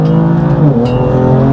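Loud, close engine of a BMW M4 GTS sports car with its six-cylinder engine, a strong steady drone whose pitch dips and rises slightly as it drives.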